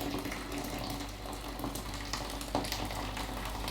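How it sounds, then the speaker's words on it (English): Boiling water poured from a kettle into a measuring jug, a steady close splashing gush running the whole time with a slight gurgle partway through. "Now I need 600 mils, and this is boiling water."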